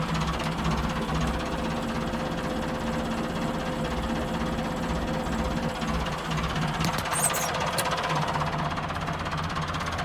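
A Volvo 2254 4WD tractor engine runs steadily close by, a loud continuous diesel knock and rumble with a constant even rhythm throughout.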